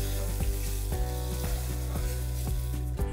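Beef pieces for a Mediterranean beef stew fry in a pan as they are turned to brown a golden crust, giving a steady, close sizzle broken by regular clinks and scrapes of flipping.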